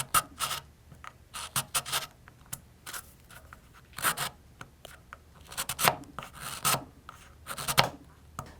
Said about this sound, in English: let's see if we can get a nice sharp edge on here with a little work on the stones